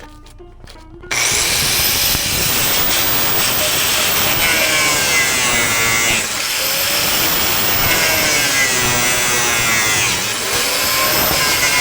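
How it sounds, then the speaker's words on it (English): An angle grinder cuts through wiring under a barn, with a loud, sustained high-pitched abrasive whine that wavers as the disc bites. It runs close and continuous after a short quiet start. "I'm going to cut it right there with my grinder."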